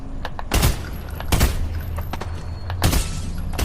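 Gunfire in the video game Fortnite: three sharp, loud shots spaced irregularly over a few seconds against a steady background hum, with no talk during the shots.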